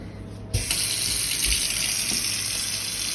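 A new kitchen faucet is switched on and water gushes into the sink with a sudden onset, then runs as a steady, loud, close splashing rush to the end.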